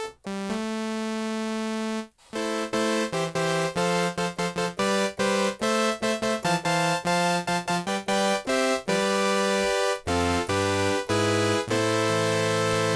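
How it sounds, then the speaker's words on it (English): A synthesizer oscillator set to a saw wave plays a steady run of bright, buzzy notes, some short and staccato, others held, with brief gaps between phrases. "My favorite type of wave is saw, so I'm just going to pick saw."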